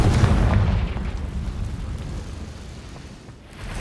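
A Confringo fire spell detonates in Hogwarts Legacy, a loud, deep booming burst that rolls on as a sustained low rumble for a few seconds before tapering off.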